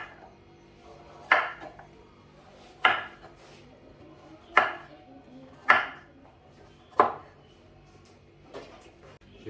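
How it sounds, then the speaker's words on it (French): Kitchen knife slicing vegetables into rounds on a board while preparing boeuf bourguignon, five evenly spaced sharp chops about every 1.5 seconds, close and fairly quiet, with faint room noise between cuts. "Je vais les couper en rondelles."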